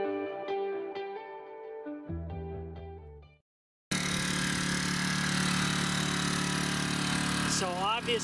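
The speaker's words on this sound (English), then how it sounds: "So obviously the generator is on, you know, it's not laboring too badly, and it's fairly quiet." A generator running outside an off-grid tiny house, a steady engine drone with a constant hum lasting several seconds, after a brief tonal passage and a short gap of silence.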